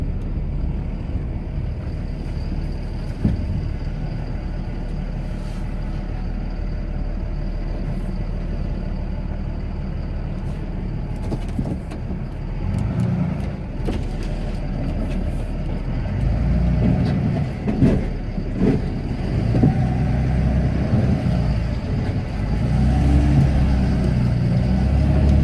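A Cummins-powered Ram pickup plowing snow gives a steady, deep diesel rumble that swells louder and rougher in the second half, heard up close with no talk.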